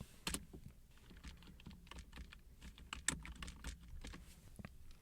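Typing on a computer keyboard while entering a callout in AutoCAD 2008, heard as a quiet, irregular run of close key clicks with a few sharper taps, alone with no voice.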